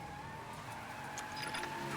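A car in the Mafia 3 video game runs with a steady engine drone that swells slightly toward the end, close and continuous with no talking.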